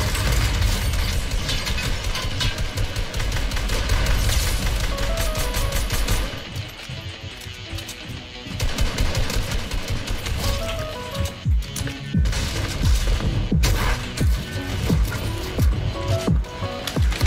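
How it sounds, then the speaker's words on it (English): Dense, sustained gunfire fills a competitive shooting video game match, with rapid overlapping bursts, a brief lull, then renewed firing and scattered shots. "Everyone's shooting at him."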